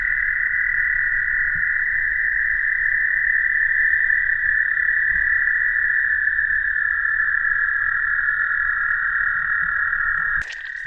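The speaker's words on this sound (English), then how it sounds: "I can hear the little peepers." A dense chorus of spring peeper frogs calls without a break at night, a loud, steady, high-pitched trilling wall of peeps with no talking, ending in a brief rustle.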